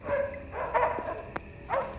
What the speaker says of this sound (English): the dogs are out.